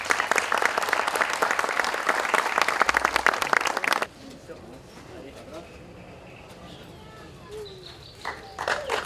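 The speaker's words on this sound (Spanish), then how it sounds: "Fuerte el aplauso ahí" An outdoor audience at a commemorative event gives loud, dense applause for about four seconds, which then stops abruptly and leaves quiet ambience with faint bird sounds and distant voices.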